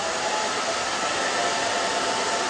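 A hair blow dryer runs loud and steady close by while drying and styling hair in a salon, a constant whooshing motor roar with no pauses or talk.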